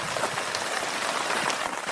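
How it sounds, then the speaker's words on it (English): Steady rain falls outdoors near a garden greenhouse, a dense, even hiss of drops spattering on surfaces that carries on without a break and with no voices. "rain's still coming down"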